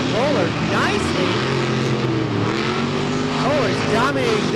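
A monster-style racing truck roars around a sand beach track at Wildwood, New Jersey, its loud engine climbing and falling in pitch as it powers over rollers.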